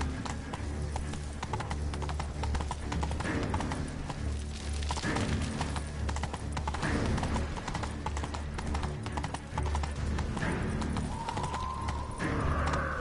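Steady clip-clop of horse hooves at a gallop fills an 8-bit video game scene, a continuous rhythmic clatter with a brief whinny-like sound near the end.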